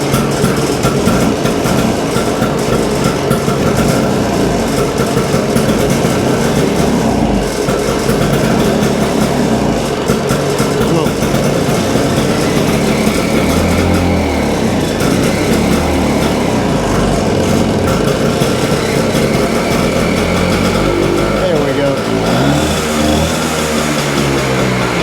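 A 1965 Vespa 150 scooter engine starts and then runs steadily after servicing, a loud, continuous buzzing drone that fills the whole stretch with no talking over it.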